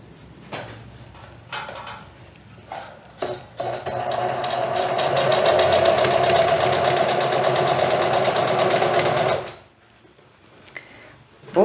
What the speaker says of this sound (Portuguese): agora vou esticando e passando essa costura